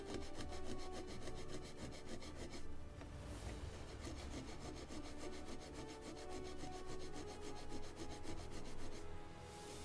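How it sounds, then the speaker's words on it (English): Wooden spars for a 1776 gunboat Philadelphia model ship kit are sanded by hand. The rasping strokes are close and steady, repeating rhythmically for about ten seconds with only a short break, and no talk over them. "More of sanding."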